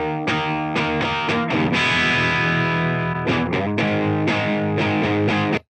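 Heavily distorted rhythm guitars played through a Mercuriall Reaxis amp plugin, loud chugging palm-muted chords and sustained power chords in a driving rhythm, played alone.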